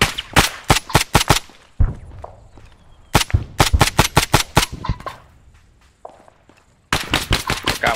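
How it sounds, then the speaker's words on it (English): Incoming gunfire in a military shooter game, loud sharp bursts of rapid automatic shots in several clusters separated by short pauses, close and alone. "Incoming fire"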